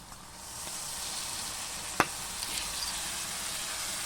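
A little water splashed into a hot pan over a wood fire brings on a broad, steady sizzle that holds for several seconds, with one sharp crackle partway through.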